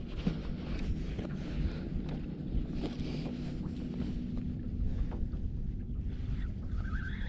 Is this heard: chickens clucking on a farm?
no